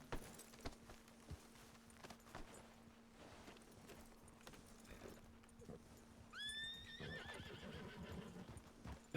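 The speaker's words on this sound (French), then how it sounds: "Monte sur mon cheval." Horse from a western role-play video game neighs in a rising whinny after a stretch of soft clip-clopping hooves, with faint background noise.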